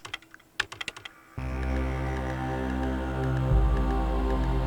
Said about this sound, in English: And you're just typing away.